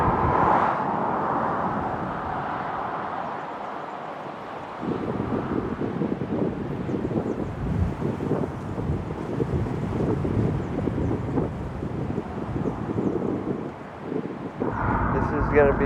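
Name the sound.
wind blowing on the Big Sur coast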